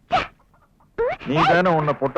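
A man imitates a hen clucking with his voice, a short high squawk followed by a longer run of warbling cluck-like sounds, close and loud, in a comic exchange.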